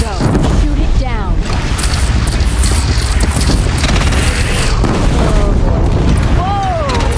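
A bridge in the Horizon Zero Dawn video game is shot down and destroyed in a loud, sustained explosive roar and rumble with crashing debris, while a voice exclaims over it.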